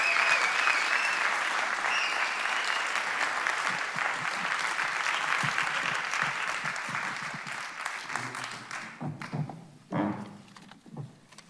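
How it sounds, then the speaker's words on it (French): An audience at an anniversary round-table event applauds its founding board members in sustained, dense clapping that gradually thins and fades toward the end, followed by a few isolated sounds and a voice. "des applaudissements pour Véronique Marie, Emmanuel Audard, Emmanuel Mestre"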